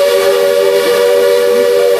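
Steam whistle of a Walt Disney World Railroad steam locomotive at the Magic Kingdom, a steady, loud, sustained tone holding for two seconds over the hiss and rumble of the train.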